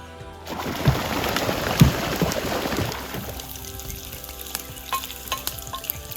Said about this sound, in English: Hot dogs frying in butter on an open fire.